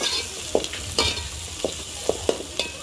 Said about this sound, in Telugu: ఉల్లిపాయలు, అల్లం వెల్లిపాయ పేస్ట్ అన్నీ ఎగుతున్నాయి ఫ్రెండ్స్ చూడండి.